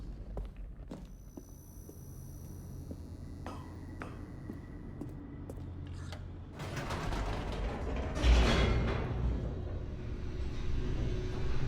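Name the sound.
elevator moving in video game The Stanley Parable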